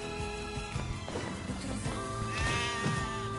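Goats bleating in the video game Nier: Replicant, a few wavering animal calls over a dense, steady game music bed at moderate loudness.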